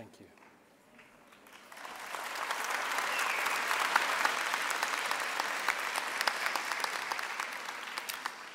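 A large audience claps at a university autumn graduation ceremony, the applause starting quietly, then swelling into a steady, dense roar of hands that carries on to the end with individual claps standing out.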